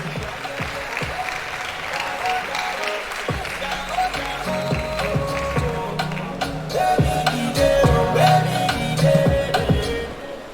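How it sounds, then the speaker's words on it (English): Audience at a university orientation for fresh students applauding a librarian's representative: sustained, loud clapping from a large crowd that swells toward the end, with scattered voices and thumps underneath. "Please put your hands together for the representative of the librarian."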